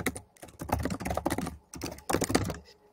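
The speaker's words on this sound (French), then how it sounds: "Attention, Solène, je t'entends très très fort. Avec ton clavier" Rapid typing on a computer keyboard, close and clear, with bursts of clustered keystrokes broken by short pauses and no talking.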